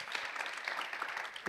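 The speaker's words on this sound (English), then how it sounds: "One of the last round of applause," A room of conference attendees gives a round of applause, a dense, even patter of many hands clapping at moderate distance throughout.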